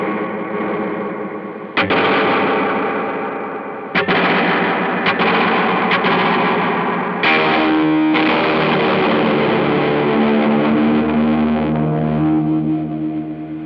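Electric guitar through a Death By Audio Reverberation Machine reverb pedal with springy tone and noticeable pre-delay, several struck chords and notes washing into long, dense reverb tails, loud and alone.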